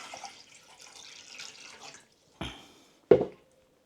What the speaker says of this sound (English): Pour 1 litre of water in the saucepan.